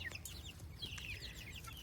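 Baby chicks peep in rapid, high, overlapping chirps against a low steady background hum, moderately quiet with no speech.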